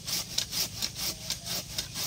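Hand saw cutting through bamboo branches, a steady back-and-forth rasp of about nine strokes in two seconds, close and fairly loud with no talking.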